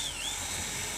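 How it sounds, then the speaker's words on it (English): Power drill boring into the center of a Fox Body Mustang ignition cylinder, a steady high-pitched whine with a slight pitch dip early on, running continuously and close up for about a second. "Go and insert our drill right into the center here."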